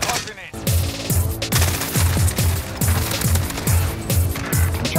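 Rapid bursts of automatic gunfire crackle loudly in a Warzone-style video game, rhythmic repeated shots over a dense background of game effects.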